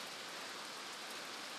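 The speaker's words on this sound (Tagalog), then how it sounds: "Na ulan eh." Steady, dense hiss of rain falling on a vegetable garden, an even wash of drops with no pauses and no voices, moderately quiet.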